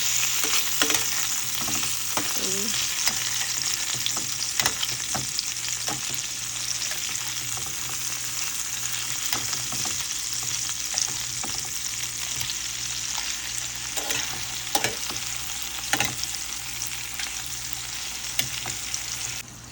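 Green banana pieces sautéing in a hot pan for hilsa fish curry, with a steady loud sizzle of frying oil and scattered scraping stirs of a utensil against the pan.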